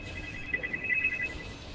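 Telephone ringing over a call line, a faint warbling electronic ring tone heard through a steady hum, brief and distant, with no talk.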